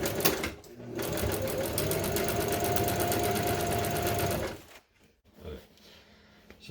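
A sewing machine runs steadily for about four and a half seconds, stitching thread through the seat-bottom upholstery of a 1966 GMC, then stops abruptly, leaving quiet handling noise.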